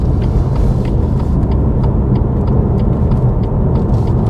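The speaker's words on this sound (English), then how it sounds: "give the car time to get the gear and then a little bit of acceleration" A car pulls away on a large roundabout, its engine hum steady and close as it takes up the next gear and then accelerates gently, with continuous road and tyre rumble throughout.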